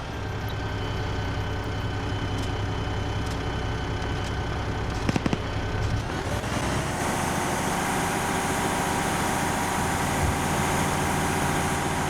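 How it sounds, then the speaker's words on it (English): A BTR armored vehicle in a video game rumbles with a continuous engine drone. The tone deepens and grows midway through as the vehicle approaches, with scattered gunfire cracks heard over it. "Fresno's pulling back. But here comes the BTR"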